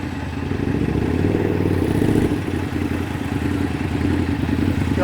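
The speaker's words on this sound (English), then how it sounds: "I'm ahead of that motorcycle." A motorcycle engine rumbles steadily on a Toronto city street during a gloomy October day, a continuous mid-pitched drone heard close by with some clatter and traffic noise and no voices.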